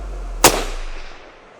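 A rifle fired outdoors during a deer cull. A single sharp, loud report is followed by a decaying rumble as the surroundings return to quiet.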